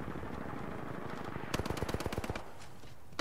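Heavy weapon fire in the game Titanfall 2: a rapid burst of about a dozen loud, evenly spaced shots rattling off after a stretch of rumbling background noise, with one more shot at the end.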